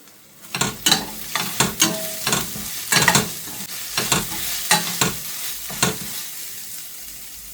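Chili sizzles in a pan of lentils for a prawn and ridge gourd gravy, with a run of loud, close bursts of spatter and stirring scrapes roughly every half second before settling to a softer fry.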